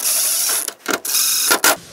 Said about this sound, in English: Slide back that roller back into the track.